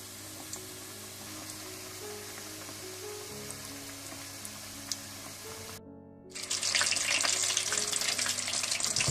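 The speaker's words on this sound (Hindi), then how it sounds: "जैसे ही आप गर्म तेल में चिकन को डालें तो फौरन ही चम्मच मत चलाइएगा" Chicken coated in crushed cornflakes frying in hot oil, a steady bubbling hiss throughout that drops out briefly and then returns louder and denser with crackling spatter.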